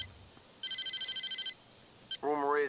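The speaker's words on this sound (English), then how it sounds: "I gotta sit through this phone call." A telephone ringing in the video game Saints Row 1, a quiet electronic trill sounding in a steady burst of repeated pulses, then a brief blip just before a voice starts talking.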